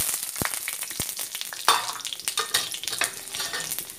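Garlic dropped into hot mustard oil crackles and sizzles, with sharp spattering bursts and stirring scrapes throughout. The frying sits close and fairly loud, with no voices.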